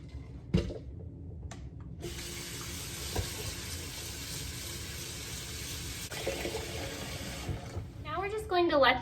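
Water poured from a tap over dried soy curls in a kitchen, a steady rushing pour running for several seconds, faint clatter at the start and a brief bubbling at the end.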